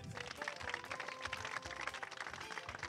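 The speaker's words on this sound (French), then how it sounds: "Alors, on peut s'applaudir un peu, non?" A studio audience at a Belgian cinema game show applauds itself before the game begins. The clapping is fairly faint and distant, a scattered but continuous patter of many hands with a low rumble underneath.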